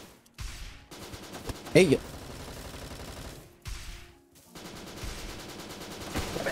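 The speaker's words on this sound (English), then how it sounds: "Popping off with the AK low key" Automatic AK rifle fire in a video game, sounding as repeated bursts of shots with a sharp louder burst near the middle, heard under and between casual talk among players.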